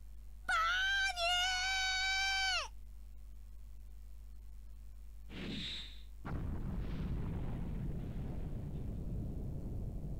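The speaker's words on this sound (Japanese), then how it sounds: "これは核エンジンに誘爆したんじゃないか、爆発の仕方からして。" A nuclear engine explodes in Gundam G Generation Genesis on PS4: a sharp burst, then a loud sustained rumbling roar. A wailing electronic tone plays beforehand.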